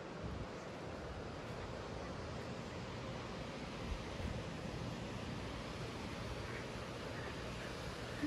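A breezy morning wind blows across a Sanibel beach at low tide, making a faint, even rush of noise that continues unbroken for the whole stretch, with soft surf underneath and no voices.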